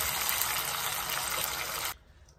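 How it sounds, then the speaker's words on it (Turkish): Canned tomato sauce, about 800 ml, poured into a pan of vegetables, a steady loud liquid gush that runs for nearly two seconds and then stops abruptly. "Ve hemen üzerine 800 milim domates sosu döküyorum arkadaşlar,"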